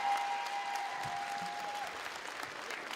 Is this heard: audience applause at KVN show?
yes